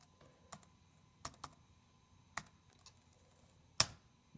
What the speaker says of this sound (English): let me go ahead and type in my password.